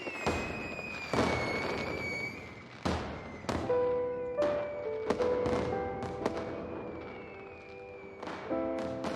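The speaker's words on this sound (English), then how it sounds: "The night sky was suddenly lit up by the stashed firework." Fireworks exploding in the video game Honkai Impact 3rd, a series of sharp booming bursts several seconds apart, each followed by crackling and ringing tonal tails, loud and close with no speech.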